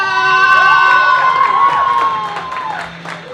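An audience at a 50th wedding anniversary celebration claps and cheers loudly, with shouts and whoops rising over steady applause before it fades slightly at the end.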